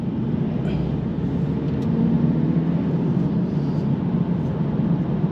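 A VW Transporter van, filled with petrol, pulls away and drives. Its engine gives a steady, fairly loud low drone with road rumble, unbroken throughout.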